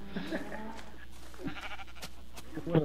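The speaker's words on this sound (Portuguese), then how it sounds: "Tá vindo a vaca também junto" A cow in Minecraft gives short, bleating moos near the start and again at the very end, heard under a person talking over the game.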